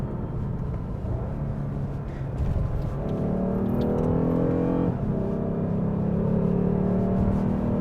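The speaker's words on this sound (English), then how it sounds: "I'm just letting you listen to the noise because the car is kind of speaking for itself right now" A Lexus GS sedan's engine drones steadily while driving, its tone rising partway through as the car accelerates, heard from inside the cabin with road noise underneath and no talking.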